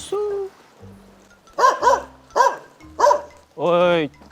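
Dogs barking in a quick series of sharp barks, ending with a longer drawn-out yelp, close and fairly loud.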